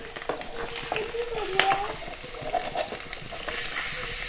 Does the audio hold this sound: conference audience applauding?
no